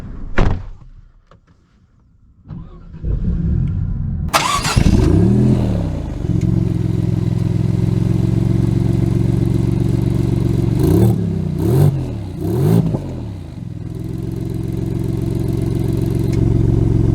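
A 2023 Maserati MC20 engine cranks and catches with a sharp burst, then settles into a loud, steady idle broken by three quick throttle blips and a final rise in revs; no talking.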